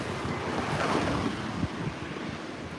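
Mediterranean sea waves and wind at night on the Tunisian shore: a steady broadband wash of surf with constant wind rumble and buffeting, continuous for the whole stretch, with no talking.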